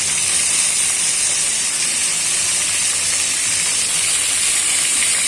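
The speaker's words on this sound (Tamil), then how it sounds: "எண்ணெயிலேயே கத்திரிக்காய் வேகட்டும்" Brinjal cooking in hot oil with salt and turmeric, a loud, continuous bright frying hiss that holds even and close throughout with no speech.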